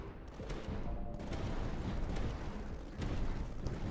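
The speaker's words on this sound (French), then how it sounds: "Donc voilà, on reprend le mitraillage." Rapid machine-gun fire rattles continuously in the Tower Dominion strategy game, a dense, loud barrage with sharper bursts standing out against a constant rumble of battle.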